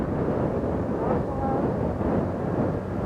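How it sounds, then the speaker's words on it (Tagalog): Strong wind buffets past during a motorbike ride toward a cave, a dense, continuous roar that stays loud and steady throughout, with no clear speech above it. "Grabe yung hangin, oh."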